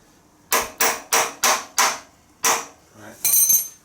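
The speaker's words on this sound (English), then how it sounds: "Right, hammer it is." Seven sharp metallic hammer blows strike a seized chassis part on a 1972 Triumph Spitfire, loud and close in an irregular rhythm, the last one ringing brighter.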